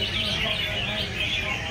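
Small songbird chirping continuously during a training session, fairly close, with steady busy background noise and no clear talk.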